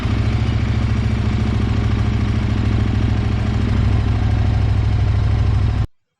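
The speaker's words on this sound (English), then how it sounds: "I started the bike and I'm holding the can close to the exhaust" A motorcycle engine idles loud and close with a steady, rapid rhythmic putter and clatter, then cuts off abruptly near the end.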